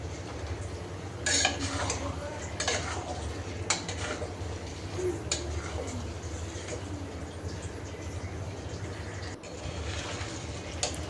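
Chicken meat and potatoes are stirred and fried with spices in a pot, with a utensil scraping and clinking against the metal in irregular strokes over a low, steady cooking background, fairly quiet and close.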